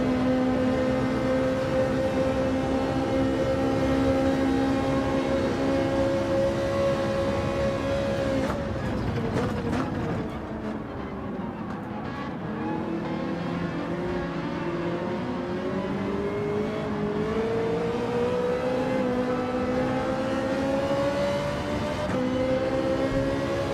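A race car engine at Fuji Speedway in Gran Turismo 7 drones loudly and steadily, dips as it slows for a corner, then climbs again under acceleration, close and continuous.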